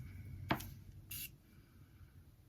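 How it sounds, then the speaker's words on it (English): Morphe Continuous Setting Spray gives a short, faint hiss from its aerosol can during makeup application, preceded by a sharp click and set against a quiet room background. "All right, let's spray it"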